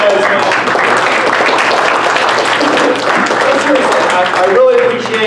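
Audience applause at a Tea Party gathering, a dense wash of clapping from a crowd filling the room, loud and sustained, with a voice speaking over it.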